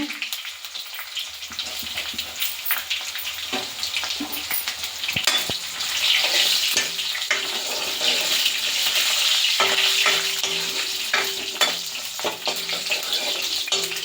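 Green chillies with crushed garlic fry in a pan, a close, crackling sizzle that swells louder midway, with scattered clicks and scrapes of stirring and no talking.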